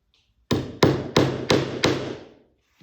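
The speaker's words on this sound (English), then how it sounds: "Now I just drive nails in at the top of each arc" Hammer striking nails into a wooden boat plank, five sharp close blows in a steady rhythm, each ringing briefly before the next.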